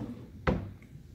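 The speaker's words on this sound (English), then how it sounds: "in empty, cleaned out drawers" A hotel room drawer in a Daytona Beach resort slides once, giving a single short wooden thud or knock near the middle, close and moderately loud against a quiet room.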